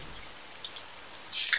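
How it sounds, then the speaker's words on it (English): Light rain patters steadily against a window glass in the Trilby's Notes video game, a soft continuous hiss with a few faint drips and a brief louder swell near the end. "Light rain pattered against the glass."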